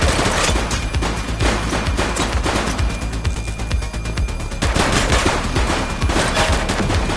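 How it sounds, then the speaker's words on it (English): Continuous gunfire in The Precinct police video game: loud, overlapping rapid shots and volleys with a brief dip partway through, then the firing swells again until the end. "He's shooting!"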